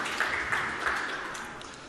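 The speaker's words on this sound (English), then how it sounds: "One more round of applause for these guys." A crowd at a November security meetup applauds the speakers: thick, continuous clapping at an even level that eases off slightly toward the end, with a few raised voices mixed in.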